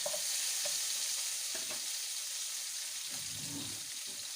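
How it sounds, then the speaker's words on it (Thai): Steady, bright sizzling of food frying in a hot wok, continuous and close, with a few soft clinks and stirring sounds, before pork is added for Thai om moo curry. "กระทะเริ่มเดือดแล้วเนาะ"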